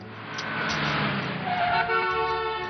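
A car horn honks in a street scene from a Marathi TV drama, sounding as a sustained, steady blare that grows stronger partway through over a low rumble of traffic.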